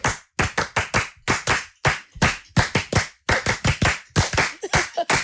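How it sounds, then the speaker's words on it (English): A family performs a rhythmic hand clap, crisp close claps in quick groups with short pauses between, a repeating patterned beat for about five seconds with no talking. "I think we should do the clap."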